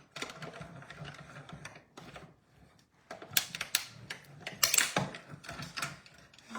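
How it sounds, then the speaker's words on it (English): A card die-cutting machine is cranked by hand with a top cutting plate in place, giving uneven bursts of ratcheting, gear-like clicking and grinding. The mechanical noise grows louder and busier in the second half, with no talking. "now I'm going to put a top cutting plate and crank it through"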